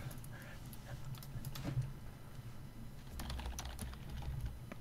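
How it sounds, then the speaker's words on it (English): Clicky typing on a computer keyboard comes in scattered bursts of key taps, moderately close and fairly quiet, over a low background hum. "Typing. Typing."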